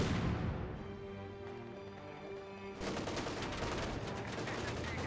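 Maxim and Vickers machine guns firing in a Company of Heroes 2 battle, dense rattling bursts that carry on steadily throughout, loud and unbroken, with a fresh wave of rapid fire starting partway through.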